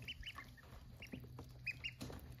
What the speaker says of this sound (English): I wanted to show you my little ducks that hatched out last week.